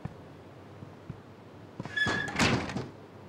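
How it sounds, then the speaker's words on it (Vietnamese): A door shut firmly: a few faint knocks, then a solid thunk and rattling slam near the end, fairly close and alone with no talk. "Đóng cửa đi."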